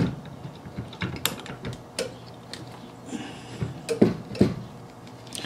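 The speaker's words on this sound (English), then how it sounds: "now we'll go ahead and remove the master cylinder" Tools work on the master cylinder of a 1969 Corvette C3 as it is unbolted and removed, giving irregular close clicks, ratcheting ticks and metallic knocks over a low hum, with no talking.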